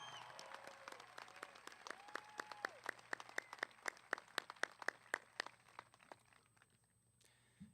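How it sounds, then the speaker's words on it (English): Graduation crowd at Douglas High School clapping for two retiring teachers. The applause starts thin, swells into a fuller round of claps and then fades to quiet near the end. "Please join me in a round of applause for both Mrs. Borselli and Mrs. Torres"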